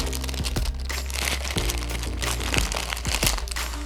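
A toy makeup mirror case is handled and opened, giving a close run of sharp plastic clicks and cracks with crinkly rustling between them.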